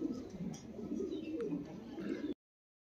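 Punjabi Malwai pigeons coo together in low, throaty rolling calls, several birds close up and overlapping before the sound cuts off abruptly.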